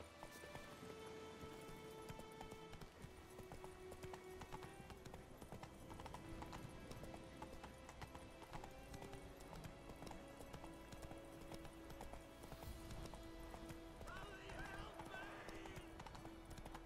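Horse hooves clip-clopping at a fast gallop in The Witcher 3 video game, a rapid, continuous rhythm with a brief whinny near the end, heard under game ambience and occasional voices.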